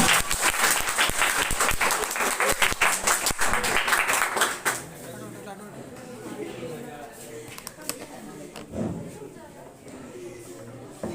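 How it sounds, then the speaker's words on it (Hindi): Dense, loud audience applause at a school Republic Day celebration fills the first few seconds, then fades out as a single speaker's voice carries on over a quiet hall. "और ताली बजा रहे हैं।"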